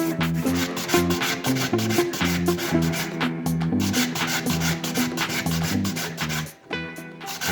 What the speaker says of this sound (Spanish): Momento de esmerilar.